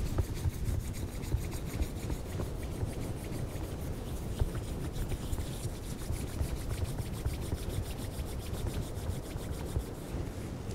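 Steady, continuous hand rubbing or sanding with an even, scratchy friction texture, held at a constant level and close by, with no talking.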